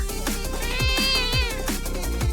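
A cat meows clearly and repeatedly, several drawn-out calls in quick succession, close and loud over soft background music.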